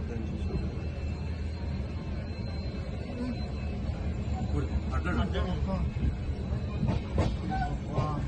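Steady rumbling rattle inside a moving train carriage, continuous throughout, with voices talking over it.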